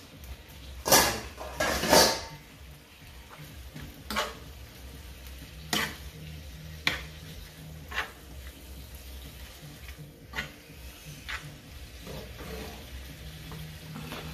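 Noodles stirred and frying in a pan with tofu, soft steady sizzling punctuated by several sharp scraping and clattering stirs, close and fairly quiet, with no talking.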